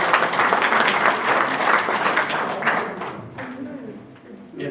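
Applause approving a motion at a church men's association general assembly in Daegu; a loud, even burst of clapping from a large room fills the first few seconds, then thins out and tails off.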